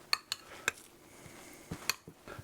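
Cream cheese filling for armadillo eggs is mixed in a bowl, with a utensil clinking sharply against the bowl a few times between softer scraping and stirring.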